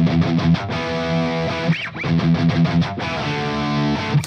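A distorted electric guitar plays a sustained harmony line, loud and continuous with held notes and a brief bend, no talking.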